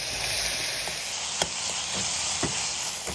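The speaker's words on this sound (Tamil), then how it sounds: "பொடிப்பொடியாக நறுக்கிற கேப்சிகம் போட்டு வதக்கிங்கோ" Steady frying sizzle from carrots and capsicum sautéing in a hot pan, with a few light clicks of a utensil stirring now and then.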